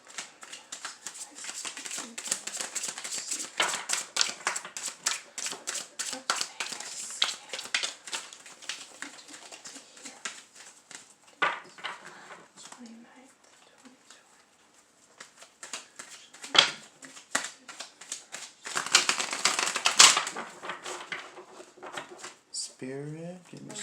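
A deck of tarot cards being shuffled, with dense rapid riffling and flicking card sounds over much of the stretch, pausing briefly midway, then a final quick riffle near the end; a voice speaks faintly at moments.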